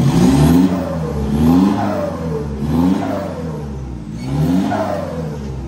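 A Toyota Fortuner VNT fitted with a new full-system exhaust is revved close up in a series of four deep throttle blips. Each rev rises and falls in a rhythmic, throaty burble with no talking.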